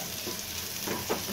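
Onions frying in a pan with chicken and mushroom give off a quiet, steady sizzle, with a couple of faint stirring scrapes near the end of the short stretch.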